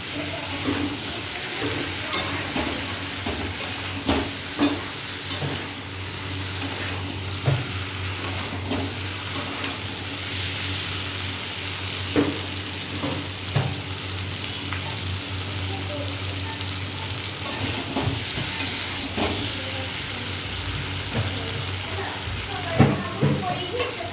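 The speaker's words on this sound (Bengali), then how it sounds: "এবার এটা কষিয়ে নিয়ে জল ফেলে দেবো।" Tender boiled vegetables stir-fried in a pan, with a steady sizzle and frequent scraping and clinking of the spatula throughout. No voices are heard.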